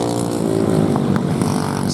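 An unrestricted racing kart engine howls steadily at close range during a kart race, with a loud buzzing drone and layered harmonics that hold for the full two seconds.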